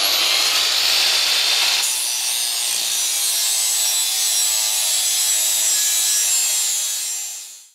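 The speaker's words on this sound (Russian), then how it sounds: "Всю крышку буду полировать в зеркало, а для начала убираем неровности и задаем форму" Abrasive rubbing and grinding on a cast Moskvich cylinder head cover as its surface is smoothed and shaped, a loud, close, steady hiss that shifts slightly early on and fades out at the end.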